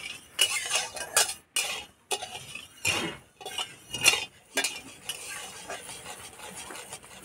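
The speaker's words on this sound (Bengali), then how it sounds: "কড়াই দিয়ে দেবো চিনি, দিয়ে দেবো জল, আমি চিনি সিরা করে নেব।" A spoon stirs sugar and water in a pan on the stove to make syrup, giving intermittent metallic scrapes and clinks against the pan, close and fairly loud with short pauses between strokes.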